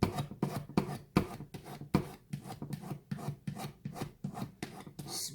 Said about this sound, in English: Take my little stone and it helps smooth it out.